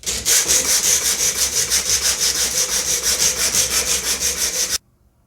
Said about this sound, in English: Now I'll just work through the grits by hand just to smooth all the handles off altogether